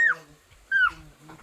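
A small puppy whimpers twice, each cry a short high-pitched falling whine, close and clear with a quiet gap between them and faint soft sounds after.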